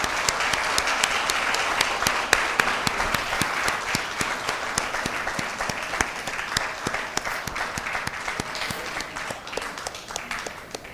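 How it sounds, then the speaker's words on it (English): Sustained applause from an audience at an event on preventing and treating visual challenges in children, dense, even clapping that continues steadily throughout at a moderate distance. "They can hear your claps, so please continue."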